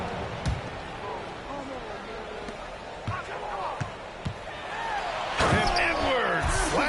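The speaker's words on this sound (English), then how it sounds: "Slams it in." Basketball dunk slam in an NBA 2K video game, heard as sharp thuds and a louder impact late in the clip over steady arena crowd noise and game commentary.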